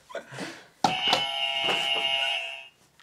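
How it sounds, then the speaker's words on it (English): After a short thump, a harsh, steady electronic buzz drones for nearly two seconds before stopping, loud and close. "Do we just quickly see what our buzzers sound like?"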